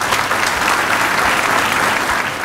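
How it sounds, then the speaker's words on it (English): Audience applause at a Rhode Island Hospital 150th anniversary celebration, a steady, loud wash of many hands clapping without a break. "So please, a round of applause for yourself."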